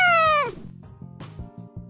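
A cat lets out one loud, drawn-out meow that slides downward in pitch, followed by softer clatter and quieter sounds nearby.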